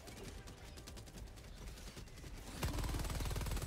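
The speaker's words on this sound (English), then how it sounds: "Hitting him with the, with my heavy HMG" Heavy machine gun fire in Helldivers 2 pounds out as a rapid, steady stream of dense automatic bursts. It grows louder and heavier toward the end, with faint speech in the mix.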